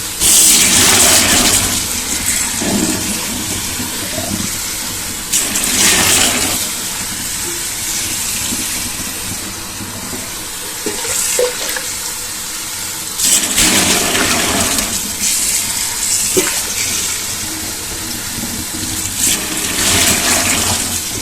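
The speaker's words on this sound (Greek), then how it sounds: "Αδειάζουμε το νερό" Water gushing and pouring loudly in repeated surges as a pot of boiled wheat is drained into a sink, with splashing throughout.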